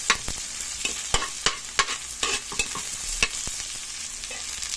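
Onions sauté in a pan for adobong kangkong, a hissing sizzle under a quick series of scraping, clacking strokes as a utensil stirs them, close and without speech.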